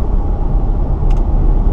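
An Audi S5 car drives past on a road, a steady close rumble of engine and tyre noise that holds loud throughout, with no voices.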